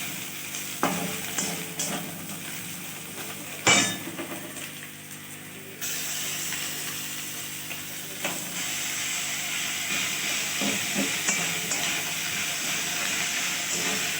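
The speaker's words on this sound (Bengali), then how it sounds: "আদা বাটা দিয়ে খানিকক্ষণ নাড়িয়ে নেব।" Chopped onions frying with ginger paste in a home kitchen pan, a steady sizzle running throughout with scraping stirring strokes and a few sharp clinks of the spoon against the pan.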